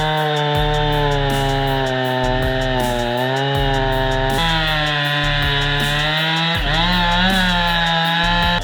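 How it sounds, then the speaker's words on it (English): Chainsaw cutting through a massive cedar trunk during monster stump removal, a loud continuous engine roar with pitch shifts as the blade bites, close and constant. "The thrilling journey begins with the roar of the chainsaw."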